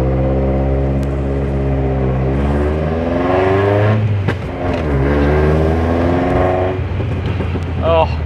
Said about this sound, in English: the popping and banging of the exhaust